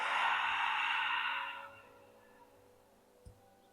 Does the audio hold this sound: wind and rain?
no